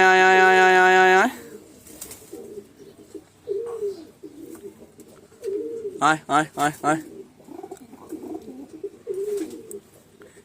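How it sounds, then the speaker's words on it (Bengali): Pigeons in a loft coo in soft, low bursts, with a short cluster of calls near the middle, while a man repeatedly calls out to them in a chanting voice. A brief, loud whistle-like tone sounds at the start. "এই যে দেখুন বন্ধুরা, পায়রাগুলো এক এক করে বেরিয়ে আসছে"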